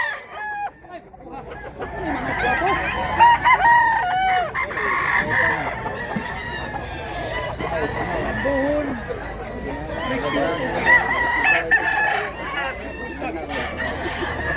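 An old gamefowl rooster crows and clucks close by, loud repeated calls mixed with someone talking throughout.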